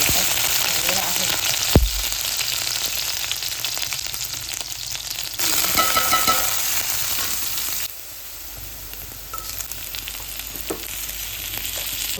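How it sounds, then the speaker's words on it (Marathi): Spices tempering in hot oil for a potato curry, a loud, dense sizzle crackling continuously with slight shifts in intensity and a brief stirring knock early on. "फक्त फायनली एक आता बटाट्याच्या भाजीला फोडणी द्यायची बाकी आहे"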